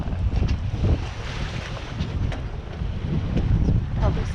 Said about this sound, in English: We're sailing, we're moving right along.